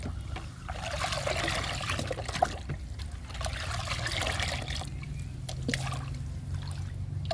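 Liquid plant fertilizer poured into a bucket, a steady close trickle and splash of liquid running continuously with slight surges, no talk over it.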